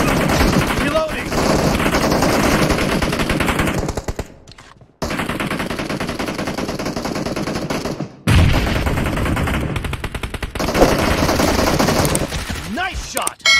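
Sustained bursts of PP19 Bizon submachine gun fire in a Battlegrounds Mobile team deathmatch, loud and rapid, pausing twice briefly before firing again.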